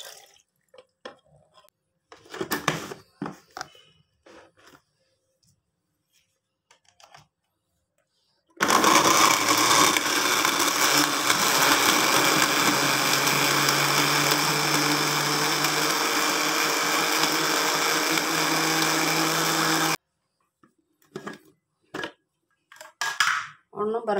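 A blender whirs loudly and steadily for about eleven seconds, mixing an apricot milkshake of milk and sugar, with brief speech before and after the run.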